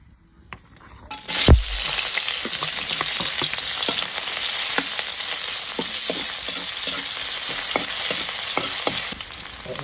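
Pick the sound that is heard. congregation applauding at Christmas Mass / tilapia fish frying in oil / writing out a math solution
tilapia fish frying in oil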